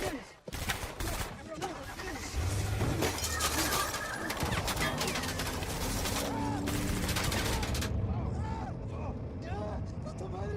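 Gunfire in a film action scene arrives as dense, overlapping rapid bursts and cracks with chaotic noise throughout. Voices shout and talk over the shooting, which runs loud and continuous before tapering near the end.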